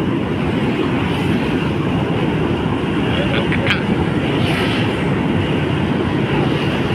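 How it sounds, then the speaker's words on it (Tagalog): A train rolls past on a city street near a bridge, a broad steady rumble that stays loud for the whole stretch, with brief squeals standing out now and then. "Ayan ang train, no?"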